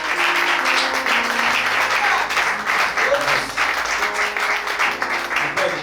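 A church hall congregation applauds warmly, dense steady clapping throughout with scattered cheers and a faint voice underneath.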